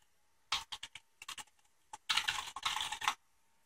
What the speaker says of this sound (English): So let's try the keyboard.